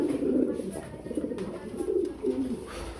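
A female pigeon at a pigeon farm coos in several soft, low, rolling phrases close by, with faint background rustle between the calls.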